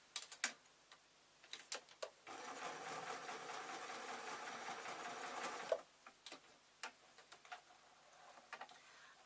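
Sewing machine running a straight line of stitches diagonally through fabric for a simple owl craft, a steady rapid mechanical whir in the middle with shorter start-stop bursts and ticks before and after, close and alone.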